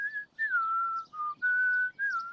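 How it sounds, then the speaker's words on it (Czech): A person whistles a short wavering tune in a children's cartoon, several sustained clear notes with brief gaps between them, heard alone and close. "Pískání je potřeba dlouho cvičit."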